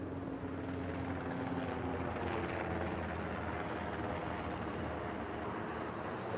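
Helicopter passing overhead, a continuous steady rotor and engine drone that holds at an even, fairly loud level throughout with no voices.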